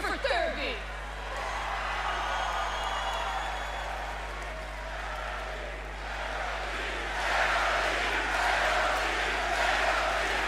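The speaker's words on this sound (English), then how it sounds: "Cheer for therapy!" A WWE Raw wrestling crowd cheering and roaring in the distance, a steady wash of crowd noise under close talk, with a low electrical hum throughout.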